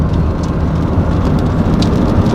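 Rain falls steadily in Tennessee, a loud, dense, continuous patter and hiss that stays close and even throughout, with no voices.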